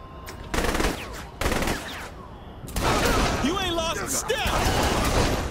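A minigun fires in Saints Row 3 Remastered on hardcore difficulty, loud sustained bursts of rapid gunfire broken by short gaps, with a voice speaking over the shooting.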